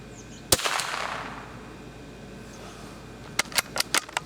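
Shots from an old .22 rifle firing CCI standard velocity rounds, one sharp crack followed by a short decay, then a quick cluster of four or five closer-spaced shots near the end, outdoors with no talking.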